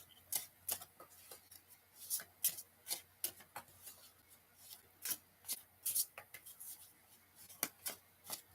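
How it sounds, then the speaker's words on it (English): Tarot cards being shuffled by hand, a quiet run of soft riffling rubs and crisp ticks in uneven bursts, close up, with a faint steady low hum beneath. "I'm really shuffling these cards here."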